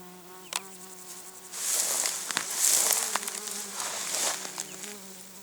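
Many bees buzz close by around a flowering plant in a steady, layered drone that swells and fades as individual insects pass near, with no talking.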